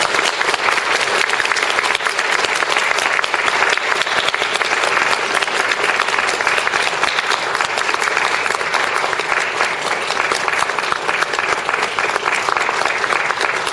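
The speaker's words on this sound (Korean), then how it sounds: "큰 박수로 전복사님 모시겠습니다." Sustained audience applause at a Won Buddhist gathering, a dense steady wash of many hands clapping throughout, loud and continuous without a break.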